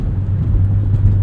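A Volvo 850 R rolls down a backroad, its engine holding a steady, close, constant low rumble with a little road noise and no voices.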